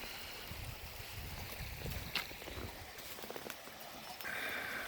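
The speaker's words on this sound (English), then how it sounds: "Laurel Fork Creek." Laurel Fork Creek in Big South Fork, Tennessee, flowing on a hike: a soft, continuous wash of running water, faint and even, with a few light knocks over it.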